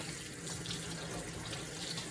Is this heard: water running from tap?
yes